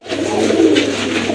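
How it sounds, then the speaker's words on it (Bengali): A pair of chocolate-coloured Lakka (fantail) pigeons coos up close, one short, continuous throaty burble rolling through the whole moment. "আরেক জোড়া কবুতর লক্ষা কবুতর"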